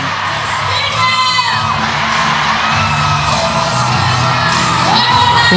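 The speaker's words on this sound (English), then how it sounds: "you can actually still hear them screaming in the background" A netball final crowd at the Malaysia versus Singapore match screams, whoops and cheers continuously, a dense wash of yelling voices filling the space without a break.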